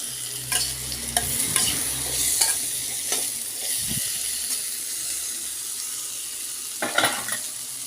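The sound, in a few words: stirring kundru (ivy gourd) stir-fry in a pan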